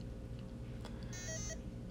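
A short electronic beep chirps faintly from a Tiger Electronics Jurassic Park handheld game switching on, over a low steady hum, a brief high-pitched tone that stops quickly.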